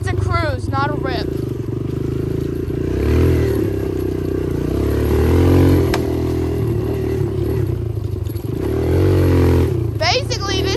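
A dirt bike on a relaxed evening cruise, its engine revving up and easing off in repeated waves, loud and close, with wind buffeting and a rider talking over it.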